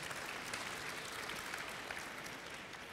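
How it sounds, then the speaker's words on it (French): Audience applause at a conference, steady distant clapping from a large hall, faint and even throughout. "On va l'applaudir."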